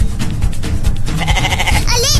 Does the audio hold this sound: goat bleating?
yes